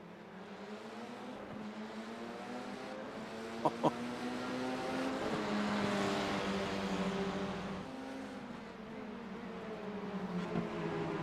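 Formula iR-04 race cars in the iRacing game, engines revving and shifting through rising and falling pitch sweeps, with other cars passing and a couple of brief knocks.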